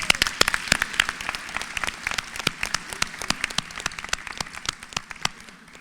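A gala audience at a hall of fame induction claps in a scattered, sparse round of applause, with distinct individual claps rather than a dense roar.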